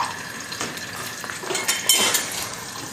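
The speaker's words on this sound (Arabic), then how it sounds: "خلوه يتقلى شوية" Onion and garlic frying in a pan for Tunisian mfawra soup, a steady close sizzle with light stirring and a few utensil clinks against the pan, no talking.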